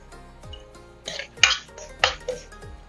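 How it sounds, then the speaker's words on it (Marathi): Metal lid lifted off a cooking pot of dal, giving a few sharp clinks and clatters of metal on metal in quick succession, close up in a quiet kitchen. "आपण झाकण उघडून बघूया।"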